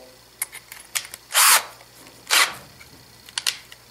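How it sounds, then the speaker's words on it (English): A cordless drill spins a homemade tool to condition 20 gauge shotgun hulls, with two short bursts of whirring close by, plus small clicks and handling noises in between. "I then chucked this into my cordless drill"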